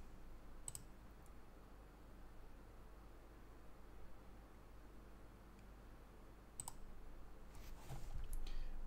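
Sparse mouse clicks on a chess website during a Titled Tuesday online tournament, a few isolated sharp clicks near the start and around seconds seven to eight over steady low background hum.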